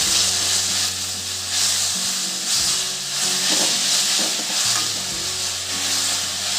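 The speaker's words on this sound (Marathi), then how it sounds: "आता आपण किसून घेतलेला कैरीचा पीस टाकून घेऊ" Grated raw mango hits hot oil already holding mustard seeds, cumin, chili and fennel, giving a loud, steady sizzle and hiss with stirring scrapes throughout, no voices.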